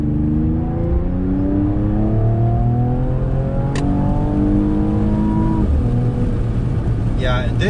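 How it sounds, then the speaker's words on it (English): A Mercedes-Benz E-Class in sport mode accelerates onto a highway, its engine pitch rising steadily through the gears in a loud, close cabin drone, with a brief whoosh near the end. "let me do another little acceleration right here, getting on the highway"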